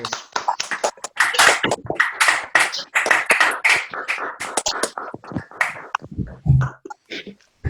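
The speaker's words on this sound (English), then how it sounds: "can we just give our speakers a round of applause?" Scattered clapping for speakers at an online Covid-19 discussion, uneven and close, as from a few participants on unmuted microphones, fading into stray taps and faint talk.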